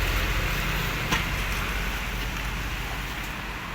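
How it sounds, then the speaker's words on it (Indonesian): Light drizzle falling outdoors beside a garbage truck, a faint steady hiss of rain with a brief sharper tap, no voices. "Ini gerimis."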